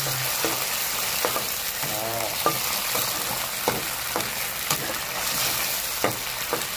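Canned sardines hit a hot pan with a loud, steady sizzle, broken by several sharp crackles and spatters near the mic; no one talks.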